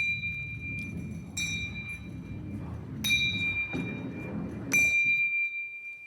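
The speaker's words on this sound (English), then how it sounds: "So we should hear the bells ringing at equal intervals in time." Small bells on Galileo's inclined ramp ring one after another as a ball rolls down it, four bright dings at roughly even intervals over a low rumble of rolling.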